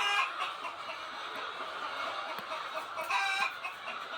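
A rooster clucks in short, scattered bursts over a steady bed of noise, fairly close, with no one talking.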